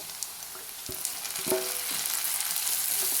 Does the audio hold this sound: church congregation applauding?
no